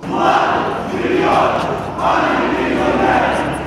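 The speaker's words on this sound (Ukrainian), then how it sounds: "Свої гасла учасники маршу вигукували також і біля міськради." A crowd of protest marchers in the city centre shouts slogans together in loud, rhythmic chanting waves that rise and fall in steady bursts, with no separate talking.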